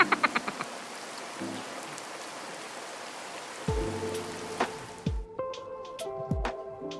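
Rain pattering steadily on a stretchy waterproof raincoat worn outdoors, a dense hiss of drops that cuts off partway through, giving way to sparse drips and rustling.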